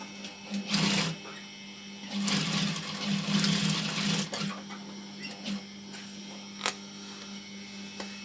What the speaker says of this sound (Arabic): وكندوز هنا بخياطة، ندوز الخياطة ديالي